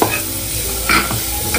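Moong dal frying in a pan with no onion or garlic, a steady close sizzle broken by the scrape of stirring and a few clinks of the utensil.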